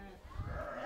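Black Arashan-breed lambs bleat close by in a sheep pen, one short wavering bleat that stands out clearly over faint farmyard background.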